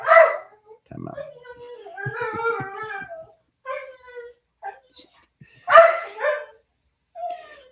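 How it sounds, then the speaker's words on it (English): A dog barks in a home during a casual live sports talk show, with a few sharp barks and whimpers mixed in among nearby voices. "Oh, the dog's gonna go crazy."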